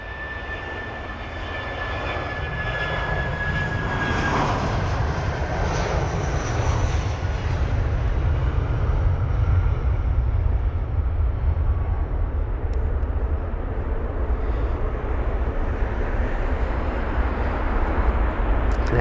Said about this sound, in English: Got the BA 319 heading to Oslo